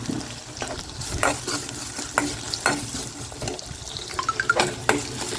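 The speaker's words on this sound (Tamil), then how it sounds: "வெங்காயம் கொஞ்சம் வரங்கட்டும் கருவேப்பிலை போட்டுடலாம்" Onions and curry leaves sauté in a pan while making kothavarangai puli kulambu, a tamarind curry. The soft sizzle is punctuated by the repeated scrape and clatter of a spoon stirring.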